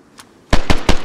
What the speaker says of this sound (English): I hear a bunch of pistol shots.